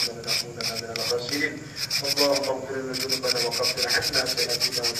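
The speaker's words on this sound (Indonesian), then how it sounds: "menggosok fungsinya untuk menghaluskan gosokan-gosokan yang dari pisau tadi" A carved wooden frog fishing lure is rubbed smooth of knife marks, giving rapid, rhythmic scratchy strokes up close, fairly steady throughout.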